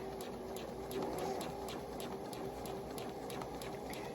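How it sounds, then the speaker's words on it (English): A sewing machine stitching fabric for a locker organizer pocket, a quiet, fast, regular ticking of the needle running continuously over a low motor hum. "my machine does go fast if I step down on it really hard."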